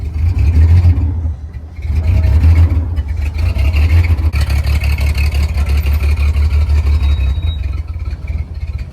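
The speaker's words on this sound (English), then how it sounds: "So when you're not moving, you try and rev, it's just dying." Dingo mini loader engine revving up and then bogging down, its low, rough drone rising and dipping repeatedly as if about to die, loud and close with no talk.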